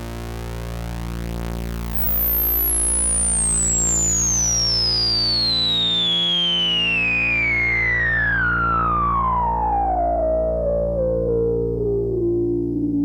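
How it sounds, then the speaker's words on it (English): A 2016 Minimoog reissue synthesizer tone with dense, gritty harmonics from filter distortion sweeps steadily downward in pitch over a buzzing, distorted drone, loud and continuous throughout. "You can have a little bit more distortion in this filter versus this one."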